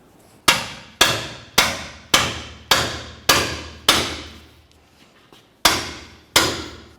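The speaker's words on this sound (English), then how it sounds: "Let's take our pickle fork and hammer, and we're going to carefully get in between the control arm and the knuckle." A hammer strikes a steel pickle fork wedged at a lower ball joint between the control arm and knuckle of a 2001-2005 Ford Explorer Sport Trac, ten sharp metallic blows in a steady rhythm, close and loud.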